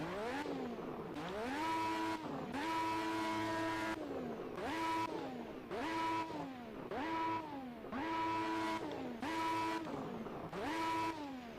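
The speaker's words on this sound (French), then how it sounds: "je vais vous laisser écouter le son du moteur" Lotus 98T Formula 1 car engine in a racing video game at the Nürburgring, loud and continuous, revving up repeatedly through gear shifts with rising pitch sweeps in a steady rhythm, no talk.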